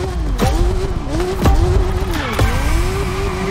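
A Honda CB1000R Neo Sports Café motorcycle engine in a racing video game, a steady droning note that dips and climbs with gear shifts, loud and continuous throughout without talk.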